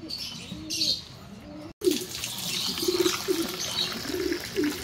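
Pigeons coo repeatedly in soft, rounded phrases close by, with chirps and a steady background hiss, during Filipino pigeon care with water treatment and homemade probiotics.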